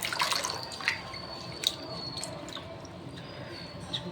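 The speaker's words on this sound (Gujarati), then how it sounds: "ચોખાને હું 2-3 પાણીથી સરસ રીતે ધોઈ" Water running and dripping as rice is rinsed in two or three changes of water for Gujarati idada, with light splashes and drips close by over a steady trickle.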